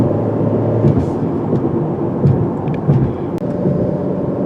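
A 2024 Mercedes E350 four-cylinder engine pulls steadily while climbing at about 7,100 feet. A constant broad engine and road roar continues throughout, with no voices.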